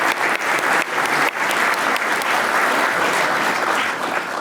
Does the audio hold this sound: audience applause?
yes